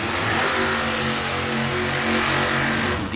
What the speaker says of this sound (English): 522 cubic inches of Pro Charged big block Chevrolet for the black Camaro on the tower side.